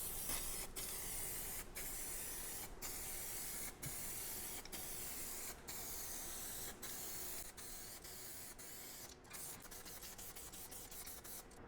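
An aerosol can of epoxy primer hisses continuously in close, steady bursts, with brief pauses and clicks between sprays, growing choppier toward the end, during automotive rust repair.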